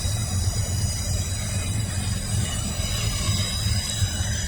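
A westbound intermodal freight train rolls past the Kinney yard junction, filling the clip with a steady, loud rumble of railcars and wheels, with faint wheel squeal. No voices are heard.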